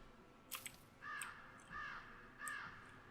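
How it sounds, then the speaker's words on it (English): A crow caws three times at even intervals in the video game Planet Coaster, clear and fairly close, with a brief rustle of game sound just before the first call. "It's making a crow noise."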